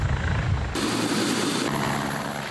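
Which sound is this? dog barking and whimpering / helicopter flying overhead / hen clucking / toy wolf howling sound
helicopter flying overhead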